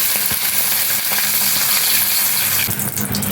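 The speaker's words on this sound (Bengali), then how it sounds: "ডিম ভাপাগুলোকে আমি উল্টে পাল্টে ভেজে নেব।" Pieces of steamed egg, dim bhapa, sizzling in turmeric-tinged oil in a kadai as they are flipped over, a constant close hiss with soft scraping turns and a brief watery splash near the end.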